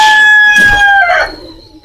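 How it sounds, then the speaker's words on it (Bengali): A chicken near a coop that also houses pigeons lets out a loud, close, drawn-out call that rises and then trails off within two seconds, with no voices. "মুরগি ঢুকছে"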